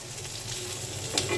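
Harina prawns frying in oil in a pan give a steady low sizzle, with light stirring scrapes near the end.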